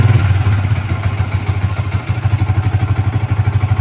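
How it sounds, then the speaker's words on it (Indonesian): A motorcycle engine idles close by with a steady, rapid low chugging pulse, running evenly the whole time. "Coba kita nyalakan motor. Nah, ini motor langsung menyala dengan normal ya."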